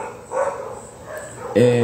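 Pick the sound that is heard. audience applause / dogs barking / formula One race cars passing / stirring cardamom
dogs barking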